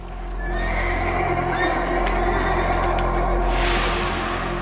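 Horses neigh and whinny in an outdoor setting, with several drawn-out calls rising and falling over a low steady rumble, and a burst of noise near the end.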